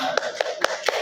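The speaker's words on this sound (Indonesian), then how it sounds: "Tepuk tangan." Students in a classroom clap in unison, four sharp, evenly spaced claps close to the microphone over a faint background hum.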